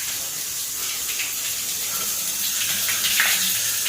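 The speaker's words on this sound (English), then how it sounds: "There's a big rain shower." Water from a big rain shower head in a Hilton hotel bathroom at Resorts World Las Vegas runs in a steady, even hiss that stays constant and fairly close.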